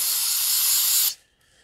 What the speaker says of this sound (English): I'm going to get a little brake cleaner and a rag.